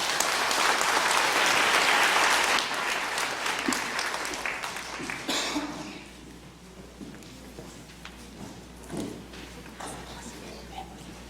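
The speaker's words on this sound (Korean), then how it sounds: "여러분 박수로 한번 환영해 주시면 감사하겠습니다" A church congregation applauds at a Sunday service, loud and dense at first before thinning and fading to scattered claps, with a voice speaking over it near the end.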